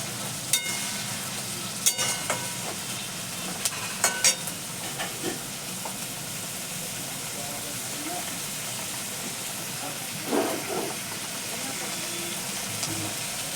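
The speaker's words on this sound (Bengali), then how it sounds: "বেশ কিছুক্ষণ ভাজা ভাজা ভাজা করার পরে" Ghughni ingredients fry in a pan with a steady soft sizzle, broken by occasional scraping and clinking as the mixture is stirred; a voice speaks at moments.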